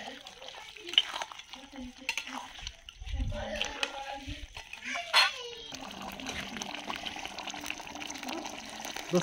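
Stirring and frying of a desi duck curry after chicken masala is added, a soft scraping and sizzling in the pan running steadily throughout at a moderate, close level, with a few brief clinks.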